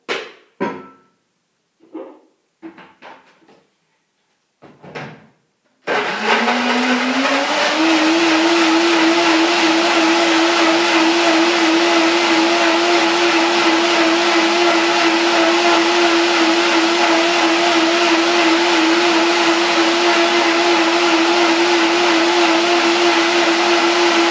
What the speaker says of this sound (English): I'll blend it.